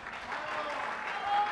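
Brief burst of audience clapping, steady and moderately loud, with no voices over it.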